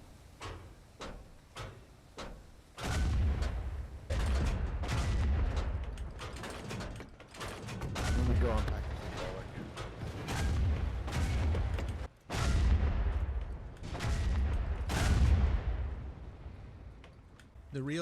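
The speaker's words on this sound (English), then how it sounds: "these guns started shooting everything they had" Artillery guns firing relentlessly in a war video game during a colonial assault on a fortified position, a run of sharp booms at first, then dense rolling bursts and heavy blasts stacking over one another almost continuously.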